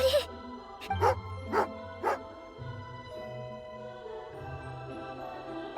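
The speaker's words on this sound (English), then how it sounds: "Good doggy. Good doggy. A fellow dog lover, huh?" Dog in the video game Genshin Impact giving four sharp barks in quick succession, close and loud, followed by quieter whimpering over a soft musical background.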